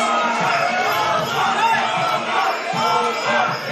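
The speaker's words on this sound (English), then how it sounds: "Hearing chants from the crowd." Fight fans in an arena chant during the second round of a five-round bout, a loud, continuous roar of massed voices with rhythmic swells, filling the space without any clear single speaker.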